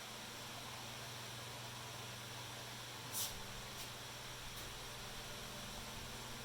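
An electric fan runs in a garage where a 1982 Capri RS is being worked on, giving a faint, steady, even whoosh with a couple of brief soft clicks.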